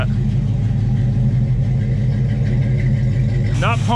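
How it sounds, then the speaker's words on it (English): Deep, rumbling idle of a Pontiac 400 V8 in a 1954 Ford F100 pickup that sat for 12 years, steady and loud throughout, with a brief higher squeal at the very end. "She's idling."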